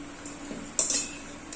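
A metal utensil scrapes and clinks against a pan while cooked kanda bhaji greens are scooped out, a short close scrape followed by one bright clink, with no talk.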